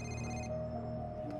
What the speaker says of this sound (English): All day with this damn phone!